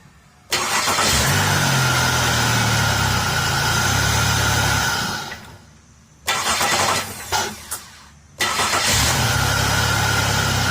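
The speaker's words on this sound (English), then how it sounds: "after starting the car and shutting it down" A Chevy Monte Carlo with a no-crank, no-start fault starting up: the engine catches abruptly and idles loudly and steadily, then winds down to near silence, with a few brief sputters before it fires again and resumes idling.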